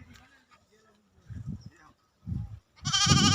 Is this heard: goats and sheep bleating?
yes